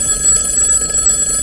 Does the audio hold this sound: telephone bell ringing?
yes